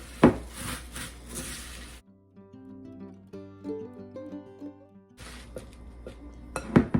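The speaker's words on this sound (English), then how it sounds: "now what I want to do is dump in the potato sticks, mix everything together" Potato sticks are stirred into melted butterscotch and peanut butter, making sticky rubbing and light clinking sounds at the start and end, with a stretch of music in between.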